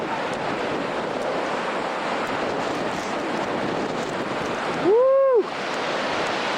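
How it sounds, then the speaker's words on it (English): Strong blizzard wind drives sleet in a constant loud roaring rush that fills the whole stretch, with a person's brief shout rising over it near the end. "It is sleeting. Wind is blowing a good 30-40 miles an hour."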